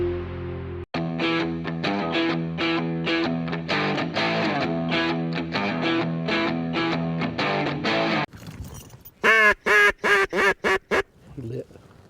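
Ducks quack loudly and repeatedly during a Carolina duck hunt, first in a dense run of calls and then in a few sharp separate bursts, with voices mixed in.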